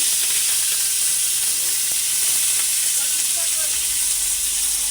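Curry leaves and sliced onions frying in hot oil in a wok, a steady bright sizzle with a constant hiss running throughout, close and even in loudness with no talk over it.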